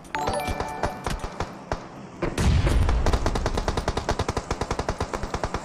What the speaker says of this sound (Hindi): यहाँ पे गोलियां स्पैम होते हुए एनएस की टीम की तरफ से